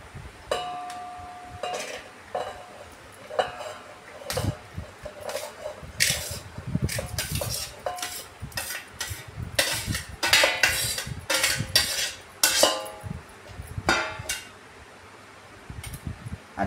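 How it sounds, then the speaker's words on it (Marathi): Raw mango pieces being mixed with spices in a metal pot for homemade pickle, a spoon scraping and clinking against the pot in irregular bursts, close up over a low steady fan hum. "आता ही सर्व टोपामध्ये घेते आणि हे सगळं साहित्य ना मी एकजीव करून घेते"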